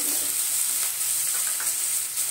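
Finely chopped onion sautés in a pan for a masoor curry, giving a steady, bright sizzle that runs evenly throughout with a few soft stirring scrapes and no talking.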